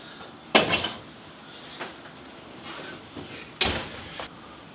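A spinach pie dish coming out of a 350-degree oven after an hour of baking: a few sharp clanks and knocks, the loudest near the start and again toward the end, with small shuffling handling noises between them and no talking.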